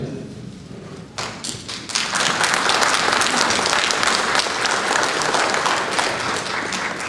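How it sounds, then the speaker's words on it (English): Audience applause breaks out at a school district unification hearing, starting with a few scattered claps and quickly swelling into loud, sustained clapping from a crowded room that holds steady to the end. "please hold down the applause so we can get on to the next speaker as soon as possible"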